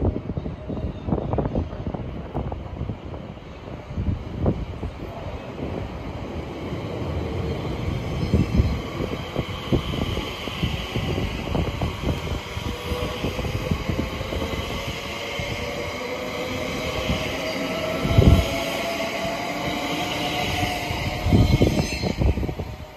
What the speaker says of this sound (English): The next train to arrive at platform 9 will be the 1423 Greater Anglia service to London Liverpool.